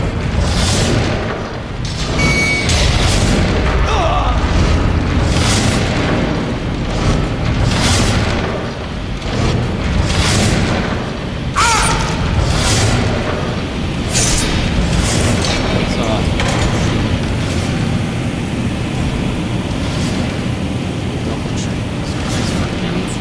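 A fire trap in Skyrim going off repeatedly, a series of whooshing booms and roaring bursts recurring every second or two over a steady noisy rumble, with a voice talking at times.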